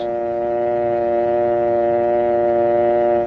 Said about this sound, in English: remove the receiver and listen for the dial tone